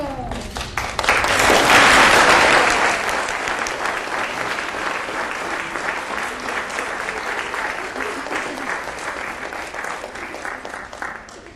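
Audience applause at a school Living Green program, a burst of clapping that swells quickly, peaks early, then settles into steady continued clapping as the crowd keeps going.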